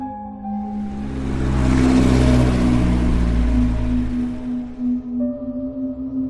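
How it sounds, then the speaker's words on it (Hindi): A car drives past on a highway, its engine rising from a low hum to a loud rushing roar, then fading away as it passes, with no other sounds around it. "कभी कभार ही उसे सामने से कोई कार आती दिखती थी या फिर ओवरटेक करती थी।"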